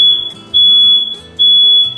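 A smoke alarm shrills with a steady high-pitched tone during home cooking of small salty appetizers, sounding continuously at close range over kitchen clatter and low background noise.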